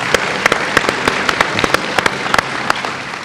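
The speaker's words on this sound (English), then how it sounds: "If we could give everyone a round of applause." A crowd applauds with steady, dense clapping, individual sharp claps standing out close by throughout.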